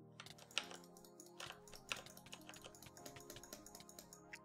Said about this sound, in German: wie ich auf meiner Tastatur da rumgeboxt habe